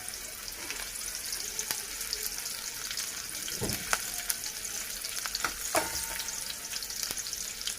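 Onion frying in a pan for a drumstick (shevga) fry: a steady close sizzle runs throughout, with a few sharp clicks and spoon scrapes of stirring scattered over it, no speech.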